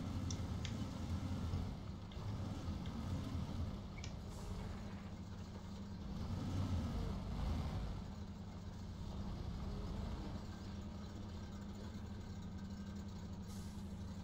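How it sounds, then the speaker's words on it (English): A heavy truck engine in the video game Spintires rumbling at a low idle, steady and droning, with slight swells in revs and no voices. "That's a cool engine sound too."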